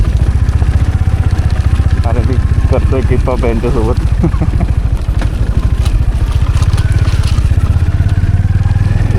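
Adventure motorcycles and a cruiser rumble steadily and close by throughout, while someone talks over the droning noise.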